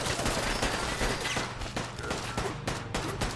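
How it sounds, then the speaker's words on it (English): Gunfire in Fallout 4 with the Sim Settlements 2 mod, a rapid string of sharp shots in quick bursts, fairly faint and somewhat distant, with no talking. "Who are they shooting at?"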